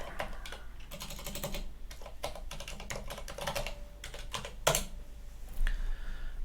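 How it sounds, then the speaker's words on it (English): Rapid typing on a computer keyboard, close and fairly quiet, with irregular clusters of key clicks and a sharper key press near the end. "I have to type it in again."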